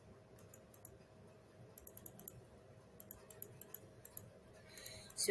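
Sparse, faint keystrokes tap on a computer keyboard while Python code is entered, scattered single clicks at an uneven pace in a quiet room, with a slightly busier flurry at the end.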